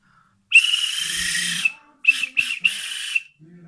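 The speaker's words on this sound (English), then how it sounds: "we've got the uh, look, conductor's whistle there" A shrill bus conductor's whistle blows one long blast, then several short sharp toots in quick succession, loud and close.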